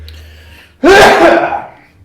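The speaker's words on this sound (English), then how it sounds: "I'm going to sneeze at some point, but I'm not sure when." A single loud sneeze bursts out close up after a quiet moment, trailing off into a breathy fade.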